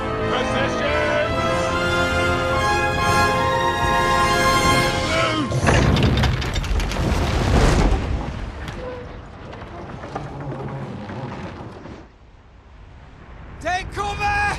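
A volley of gunfire bursts out as a loud, dense crackling roar in the video game Kingdom Come: Deliverance 2, following music and shouting, then fading into scattered noise.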